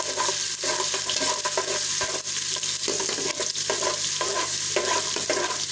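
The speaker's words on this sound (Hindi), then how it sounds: "ये आप देख रहे हैं कि मैं इसको हल्का हल्का सा फ्राई कर रही हूँ।" Steady crackling sizzle of garlic, ginger and meat frying in a hot pan, with occasional scraping and stirring, continuous and close throughout.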